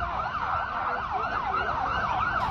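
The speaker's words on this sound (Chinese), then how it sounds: "救护车声响不绝于耳" Ambulance sirens wail at the scene of the Kunming railway station attack, a steady rising and falling electronic siren that fills the air, loud and continuous, with no voices over it.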